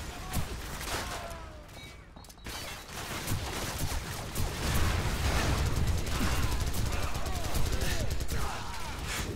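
Covering gunfire in Call of Duty 4 Modern Warfare during a joint USMC and SAS assault on a Russian nuclear site: continuous crackling rifle fire from several directions, dense and sustained under shouted voices.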